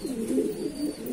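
A tiger breed pigeon coos close by, a short low throaty warble lasting about a second, alone with no voices.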